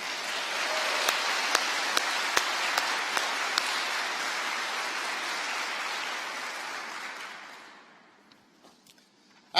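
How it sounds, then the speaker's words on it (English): Audience applause at the 2020 State of NASA address, steady, dense clapping from a large crowd in a hall that fades out after several seconds, followed by near silence. "Would you two please stand up so we can give you some applause?"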